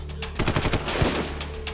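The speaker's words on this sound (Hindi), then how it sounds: "पूरा इलाका गोलियों की आवाज से गूंज उठा" Gunfire breaks out during an ambush on a stopped vehicle convoy at a railway crossing: a short, rapid burst of close, overlapping shots lasting under two seconds.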